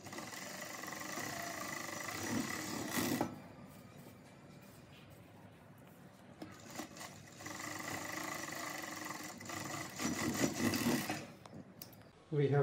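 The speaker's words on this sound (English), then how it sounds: "Now we will overlock the edges here and here." An overlock sewing machine finishes the edges of saree blouse fabric in two loud continuous runs, with a quieter stretch between them that holds faint noise and a brief burst at the very end.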